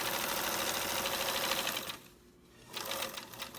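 Sewing machine stitching a seam to its end, a fast close mechanical rattle that runs steadily, dips briefly, then resumes.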